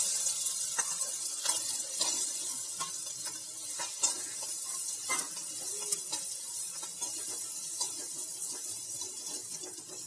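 Ground spice paste with hing sizzles and spatters in hot oil for urad dal kachori filling, a steady broadband fry broken by frequent sharp scraping stir strokes, close and continuous with no talk.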